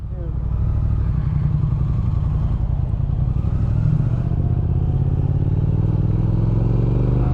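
A 2019 Triumph Speed Twin motorcycle riding up Pikes Peak, its engine a steady, loud, close drone with wind rumble throughout, no speech heard over it.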